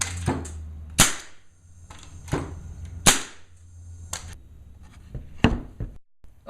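Sharp pneumatic air tool firing, driven by an air compressor, in a handful of loud cracking bursts spaced about a second apart, each with a quick decay, over a low steady hum from the compressor.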